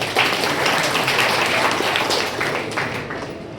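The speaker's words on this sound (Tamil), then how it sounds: "ஆக அவருக்கு இங்கிருந்தே கைதட்டுவோம்." Audience applause at a scholarship award ceremony held by an education and charitable trust, a steady, dense wash of many hands clapping that holds evenly for several seconds before thinning slightly near the end.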